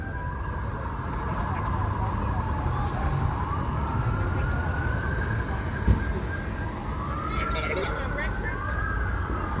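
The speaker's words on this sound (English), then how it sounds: "I'm hearing more sirens" Emergency vehicle sirens wail on the Las Vegas Strip, rising and falling at a moderate distance over steady traffic rumble, with a brief thump partway through.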